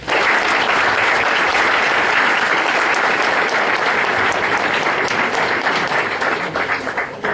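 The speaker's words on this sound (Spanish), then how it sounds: "pido un aplauso para el doctor Alberto Nava Garcés" An audience at a law lecture on cybercrime gives a loud, sustained round of applause for Dr. Alberto Nava Garcés, dense clapping that holds steady before thinning slightly at the close.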